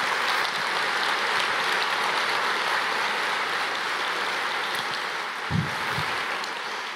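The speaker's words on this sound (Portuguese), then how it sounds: "Quero chamar aqui o Luciano Subirá, quero que você possa recebê-lo com uma salva de palmas" A church congregation claps to welcome a guest preacher to the stage, producing a steady, dense wash of applause that holds at an even level throughout, with a brief low thump near the end.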